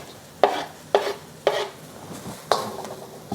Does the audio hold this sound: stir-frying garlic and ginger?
yes